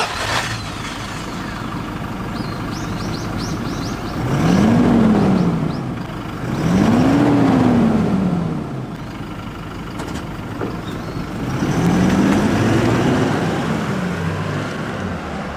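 Toyota Hilux GUN125 on its stock muffler, exhaust rumbling at low speed with a steady low drone that swells in three separate rising and falling passes, each rev climbing and easing off, with some wind-like noise in the background and no voices.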